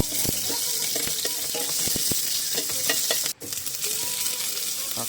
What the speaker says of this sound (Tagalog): Init ng mantika. Gisahin, sibuyas, bawang lang